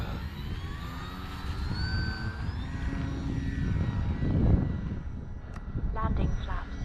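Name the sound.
FMS PA-18 Super Cub RC plane flying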